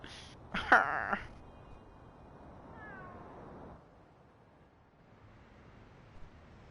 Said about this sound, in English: What a cat.